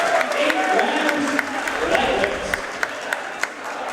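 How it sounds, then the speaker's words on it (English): Large crowd at a boxing event before an eight-round lightweight bout, a steady roar of voices and applause with a few sharper claps near the end, loud and continuous throughout. "Sounds like a big crowd coming down from Lowell"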